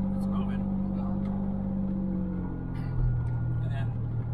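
A GMC Syclone truck's newly replaced engine hums steadily while driving, its low drone rising slightly in pitch near the end, with a person talking over it.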